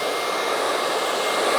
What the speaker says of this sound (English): blow dry the hair